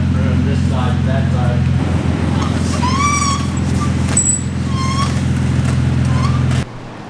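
A diesel truck idles steadily close by as it is brought into a shop, its engine rumble running until it cuts off near the end, while people talk over it and faint squeaks or whistles come and go.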